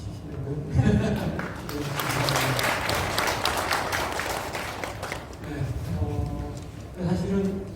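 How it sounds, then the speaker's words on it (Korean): An audience at a craft biennale briefing session applauds a committee chairman taking the stage, a sustained patter of clapping in the middle of the clip, framed by someone speaking before and after. "박수 치시려고요?"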